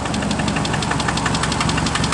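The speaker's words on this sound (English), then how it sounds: "And that is what you call rod knock right there." Engine with rod knock idling up close, a rapid steady metallic knocking beat over a loud mechanical rumble, with no talk.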